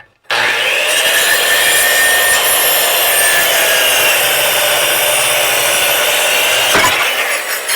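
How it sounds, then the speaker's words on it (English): A Skilsaw circular saw cuts through wood for a picture frame, a loud, close, sustained high-pitched whine of the blade biting steadily through the board for about seven seconds before spinning down. "I'll hack it off with skill saw"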